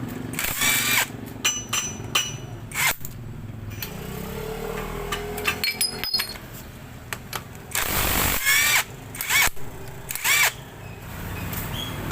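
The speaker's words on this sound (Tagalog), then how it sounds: "nakakalas ko na yung mga tornilyo. Nakakalas ko na rin sa may bolt ng timing gear." A handheld power tool whirs and revs in short bursts while bolts are taken off a seized Kawasaki CT100 motorcycle engine, broken by metallic clinks and pauses, loud and close with no speech.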